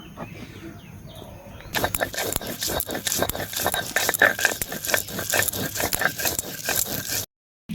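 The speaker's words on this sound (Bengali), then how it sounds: "এবার পেঁয়াজটা বেটে নেব।" Onion being ground by hand on a grinding stone: a steady run of rough, rhythmic scraping and rattling strokes, close and fairly loud, that begins after a quiet start and ends with a brief cut to silence.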